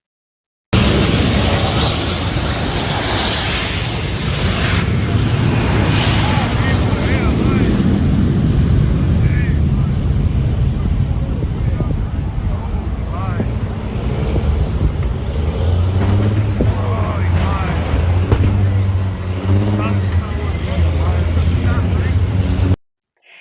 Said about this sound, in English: The DHL plane landed on the runway, and during rollout, the pilot lost control.